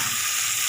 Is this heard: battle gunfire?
no